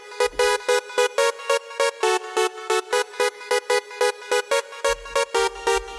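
Trance synth chord stabs, each full chord triggered from a single key, repeat in a bright, punchy staccato pattern of short evenly spaced hits, with a low thump entering near the start and end.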